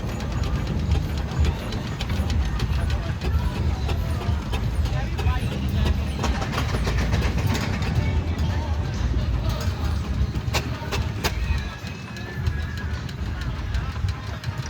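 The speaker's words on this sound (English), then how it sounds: "This is a Garrett Showman's engine." A Garrett showman's steam engine, built in Leiston, Suffolk, runs at a steam rally with a steady rumbling chuff under continuous crowd and commentary noise, with people talking nearby throughout.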